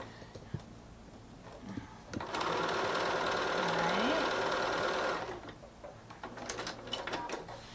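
A sewing machine runs steadily for about three seconds while stitching a quilt block, with a brief slowing near the end. Quieter handling sounds come before and after it.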